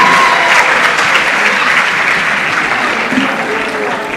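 Steady, loud audience applause fills the room with dense clapping throughout, easing off slightly toward the end, with no voices over it.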